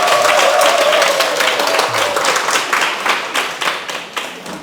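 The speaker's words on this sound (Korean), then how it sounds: "큰 박수 부탁드립니다." Applause from an audience at a Buddhist dharma question-and-answer session, starting loud and dense right away, then gradually thinning into scattered, uneven claps as it fades.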